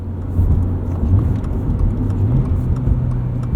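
A lifted 2022 Subaru BRZ driving, heard from inside as a loud, steady low engine drone with road rumble and slight rises in revs, no talking.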